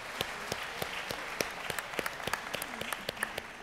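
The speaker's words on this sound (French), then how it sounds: "Vous pouvez l'applaudir." Audience at a talk in Caen applauding, a moderate crowd clapping in a continuous wash with distinct individual claps standing out close by, briefly and without speech.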